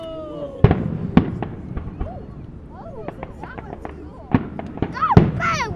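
Fourth of July fireworks in 2011, sharp cracking bursts scattered across several seconds, some near and loud, with whistling crackle between them and people talking and exclaiming in the background.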